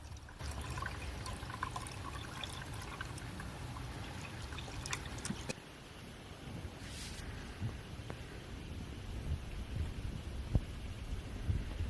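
Fluid trickling and pouring into an Audi 100 during a rebuild, a steady close liquid stream with small clinks and handling knocks throughout.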